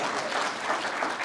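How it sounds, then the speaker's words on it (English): Steady applause from an audience at an HBCU Presidents Classic event, a dense wash of clapping that holds evenly throughout. "You gotta get a round of applause for that."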